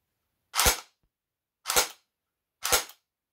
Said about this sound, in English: before you hear the sort of bang, if you like, of the shot, the firing, you hear the mechanism, the whirring of the motors, the cogs, the gearbox